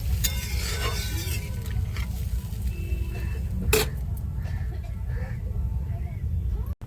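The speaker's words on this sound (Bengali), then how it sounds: "পনিরটা ভালো করে একটু নাড়াচাড়ে দিয়ে দিই" Paneer being stirred in a cooking pan during a home recipe, a soft scraping and sizzling stir close by over a steady low frying hiss, with one sharp clink partway through.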